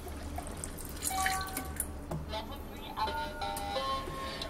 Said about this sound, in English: I'm just going to pour the old Nexus ionized water out